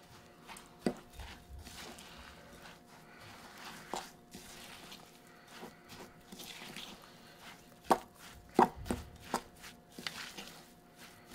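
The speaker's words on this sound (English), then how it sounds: "I just get a fork and I start mixing all this together" A fork mixing melted butter with other ingredients in a bowl for orange and cranberry muffins, quiet irregular taps and scrapes against the bowl, with a few sharper clinks near the end.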